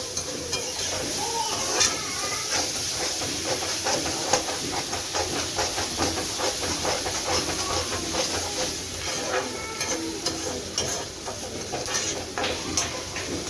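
Onions and tomatoes sauté in a pan for a brinjal and chickpea kara kuzhambu, a steady moist hiss and sizzle broken by frequent short stirring scrapes.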